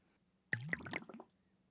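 Minecraft brewing stand sound as gunpowder is added to a potion to make it a splash potion: a single short burst of bubbly, squishy liquid pops, clear and close, over near silence.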